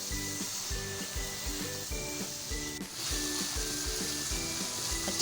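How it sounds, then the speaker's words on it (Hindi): Meat fries with nihari masala on a medium-high flame, giving a steady, even sizzle with faint tonal hum, moderately loud and close, with no talking. "अब हम अच्छे से मिक्स करेंगे और 4 से 5 मिनट हम मीडियम टू हाई फ्लेम पे इसको भूनेंगे"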